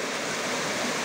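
Strong water current rushing through a flooded quarry in woodland after heavy rain of over 130 millimetres, a loud steady broadband roar like a waterfall, close and continuous throughout.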